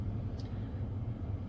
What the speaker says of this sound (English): Truck is running, it is in park.